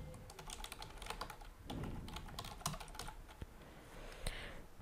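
Fingers tap out an Instagram username on a computer keyboard, a quick run of light, irregular keystrokes with small pauses between bursts and no talking.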